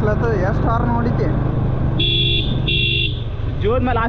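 Two loud, steady horn blasts on a monsoon mountain road near Lohagad Fort, each lasting about half a second, cutting through engine rumble and road noise, with voices talking before and after.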